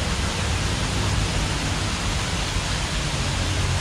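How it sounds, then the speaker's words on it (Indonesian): Water flows and murmurs steadily at an abandoned Majapahit-style site, a dense, even rush close by that holds unchanged throughout with no voices. "Gemericik suara air itu menenangkan banget loh"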